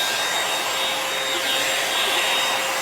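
A REVLON One-Step hair dryer and styler brush runs with a loud, steady whirring blower hum, constant and close throughout, with a faint whine on top and no voices.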